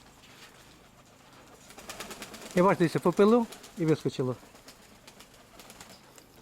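Young pigeons bathing during a hot spell coo in a short run of soft, throaty calls mixed with light splashing and fluttering, while someone talks nearby.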